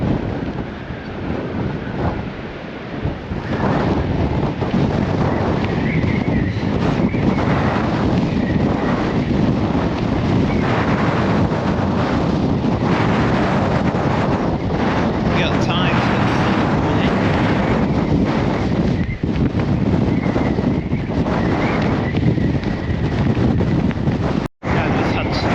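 Strong wind buffeting along Blackpool promenade, a loud continuous roar battering the microphone, with a brief dropout near the end and a voice speaking over it at times.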